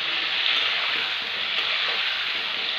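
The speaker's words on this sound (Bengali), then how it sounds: "একটু লবণ আর হলুদ দিয়ে ভাজবো" Potatoes frying in a pan with salt and turmeric, a steady close sizzle running evenly throughout with no talk.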